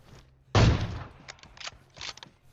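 A single loud AWM sniper rifle shot in PUBG Mobile cracks at once and decays over about half a second, followed by fainter thumps and clicks of handling, with no talk.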